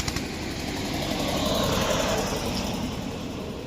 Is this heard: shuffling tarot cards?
no